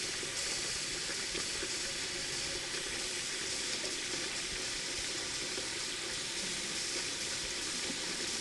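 Tap water runs continuously into a sink as pak choy leaves are washed for chicken chop suey, a steady, moderately quiet hiss that holds evenly throughout.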